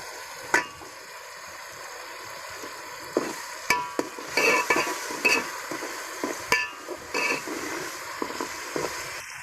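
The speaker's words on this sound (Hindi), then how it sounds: "इसमें हरी मिर्ची डालेंगे।" Green chilies hit a pan of mixed vegetables for sabzi, giving a soft ongoing fry under a run of sharp spoon scrapes and knocks against the pan, clustered in the middle, with no one speaking.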